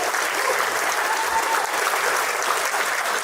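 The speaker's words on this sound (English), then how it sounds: "a round of applause for him" An audience at a hall of fame induction ceremony gives steady, dense applause, with many hands clapping evenly at fairly close range and no break in the sound.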